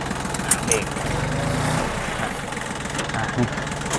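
An old Yanmar F16 D tractor engine runs at a steady idle, close by and fairly loud, with someone talking over the continuous mechanical rumble.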